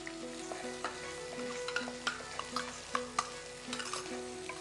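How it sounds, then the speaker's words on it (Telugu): Chopped onions fry in oil while being stirred, a steady sizzle broken by regular clinks and scrapes of a utensil against the pan, moderately quiet over a faint tonal background hum. "ఇప్పుడు ఉల్లిపాయ ముక్కలు వేయాలి."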